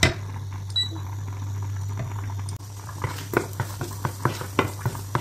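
Garlic and onion sautéing in melted butter with olive oil in a pan: a steady close sizzle under a low hum, joined midway by a run of sharp taps and clicks from stirring. No one speaks.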